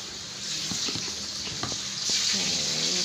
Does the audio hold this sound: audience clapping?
no